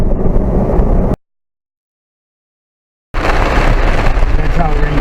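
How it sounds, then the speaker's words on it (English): Heavy Florida rain pounding down around a 2016 Jeep JKU Rubicon, a dense loud hiss that cuts out abruptly for two seconds of silence and then returns just as strong. "That's how it rains in Florida."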